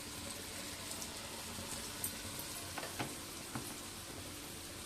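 Tea-shop style wheat flour bonda fry in hot oil with a steady, close sizzle and a few small pops and crackles scattered through, and no talking.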